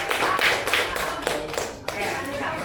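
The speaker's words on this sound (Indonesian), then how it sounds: "Oke, terima kasih, tepuk tangan dulu dong." Children in an Indonesian sixth-grade classroom clap their hands together in a dense, uneven patter of near claps lasting a few seconds, with a voice speaking over the applause.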